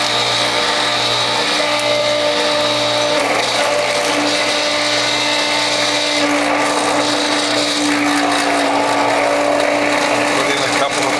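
A Whole Health Foundation juicer grinds French sorrel leaves fed through its tube, a loud steady mechanical churning with a humming motor tone and intermittent crunching throughout.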